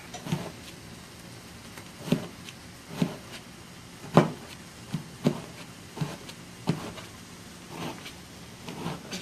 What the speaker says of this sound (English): Chopping into the eggplant.